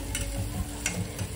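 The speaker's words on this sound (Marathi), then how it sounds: "तेलात कांदा लालसर होईपर्यंत परतवून घ्यायचा आहे आपल्याला" Chopped onion sautés in hot oil after a cumin, mustard seed and garlic tempering, a steady close sizzle with light rhythmic stirring scrapes.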